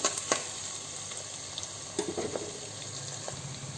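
Onion frying in oil with a bay leaf for chicken biryani crackles and sizzles steadily as it is stirred, with occasional soft scrapes and clinks close by.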